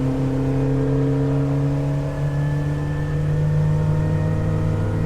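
A 2021 Starcraft Starweld 17 Flex aluminum boat with a Honda 90HP outboard runs under power, giving a loud, steady motor drone that holds through the stretch with a slight upward shift in pitch as it accelerates on the water.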